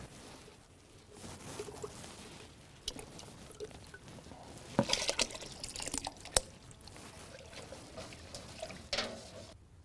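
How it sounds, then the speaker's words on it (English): Hot water swirls and splashes as a malt extract jar is rinsed and scraped into a brewing pot, faint irregular sloshing, trickling and soft scraping close by, with no talking. "I usually rinse the jar out with hot water and scrape the insides of the jar to get the rest into your pot"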